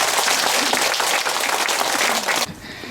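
A Buddhist congregation at the opening dharma ceremony of Daewonjeongsa's new temple hall applauds itself with vigorous, dense clapping that stops abruptly after a couple of seconds, leaving a quiet room.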